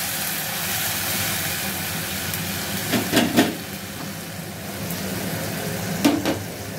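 Capsicum, tomato, ginger and green chilli paste frying in a pan, a steady broad sizzle with a few brief clatters of stirring near the middle and end.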